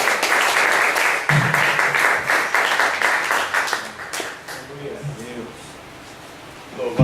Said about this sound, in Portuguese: Uma salva de palmas para o nosso Senhor Jesus.